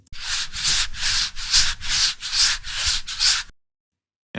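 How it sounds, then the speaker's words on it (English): An apple is rubbed by hand for a foley recording, a steady series of about eight rhythmic, close and loud rasping strokes like a shaker, ending abruptly in silence. "So this one was where I was rubbing the apple and it kind of gave this shaker"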